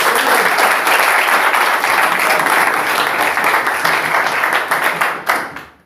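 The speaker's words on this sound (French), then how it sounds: "Applaudissez encore pour vous." A church congregation applauds loudly and continuously, a dense wash of many hands clapping that holds steady before tapering off at the very end.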